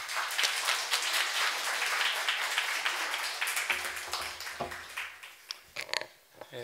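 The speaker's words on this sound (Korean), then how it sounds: "나오실 때 큰 박수로 환영하겠습니다" Sustained applause from a church congregation welcoming a guest speaker fills the room, steady and dense, tapering off at the end.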